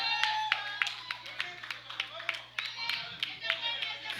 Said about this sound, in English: Crowd shouting encouragement.